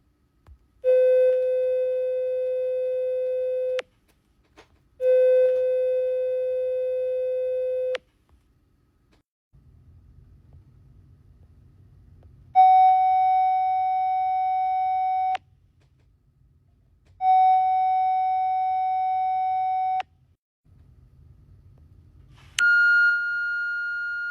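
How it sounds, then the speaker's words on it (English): A synthesized electronic tone presented as the sound of gold plays as a series of steady sustained beeps, each about three seconds long, stepping through several pitches with faint low hum between them. "Here's the sound of gold."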